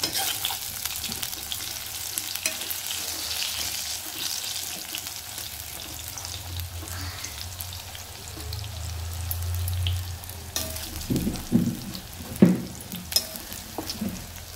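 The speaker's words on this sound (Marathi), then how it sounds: "फक्त तेलामध्ये थोडी फ्राय करून घ्यायची" Vegetables for a besan vada curry fry lightly in hot oil, a steady soft sizzle with stirring and occasional clinks of a utensil against the pan toward the end.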